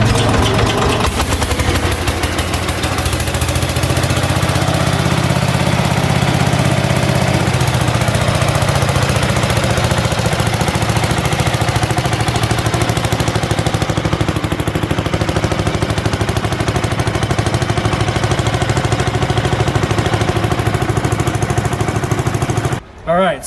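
A 1968 Allis-Chalmers Landlord garden tractor engine runs continuously nearby, a loud, steady low putter with a rough knocking rhythm, sustained throughout with a brief dip at the very end.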